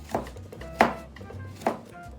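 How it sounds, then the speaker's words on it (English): A knife slices carrot strips into thin pieces on a cutting board, three crisp, separate chops spaced evenly apart, close and fairly loud, with faint background hum between strokes. "carefully cut it in thin slices"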